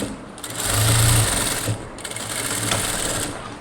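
A sewing machine stitches lace onto fabric, a steady close mechanical whirr running almost throughout, with one brief dip partway through.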